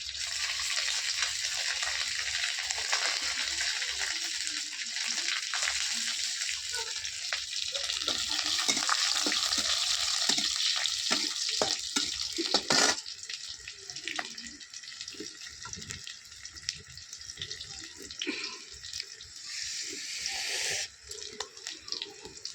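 Chopped onion frying in a pan, a loud hissing sizzle with spitting crackles that swells in the middle, then drops suddenly and returns more unevenly, with no speech over it.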